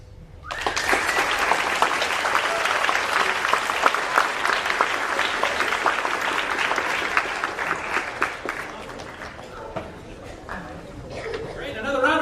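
Audience applause at a humanities symposium, breaking out after a brief pause and holding as a dense, steady roar of many hands for about ten seconds before thinning, with a few voices near the end.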